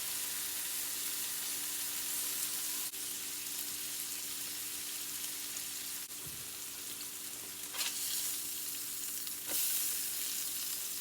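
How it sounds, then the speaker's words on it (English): Burgers for Oklahoma fried onion burgers searing on a hot griddle after being flipped, a steady close sizzle with a few light scrapes and taps of a spatula. "All right, let's give our burgers a flip. You can see they've been seared."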